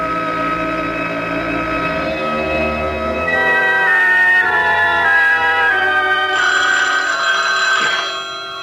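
An old-fashioned telephone bell rings in a horror radio drama, repeated loud trilling rings over a sustained musical score that swells toward the end, with no talking.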